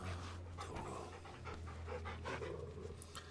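A dog pants quickly and steadily, close and quiet, over a low background hum.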